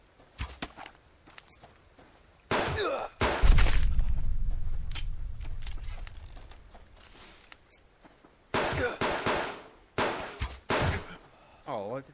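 Gunfire in the survival video game Subsistence: several sharp shots, one big blast around the middle trailing off slowly, then more bursts of shots later, with someone talking in between.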